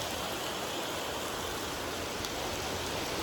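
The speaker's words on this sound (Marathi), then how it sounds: "पाऊस आला." Monsoon rain falls outdoors, making a steady, even hiss of drops that stays constant and fairly close throughout.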